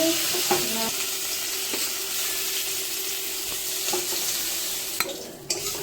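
Fish frying with tomato in a pan, a steady close sizzle with occasional stirring scrapes and light clinks of a utensil against the pan, no voices.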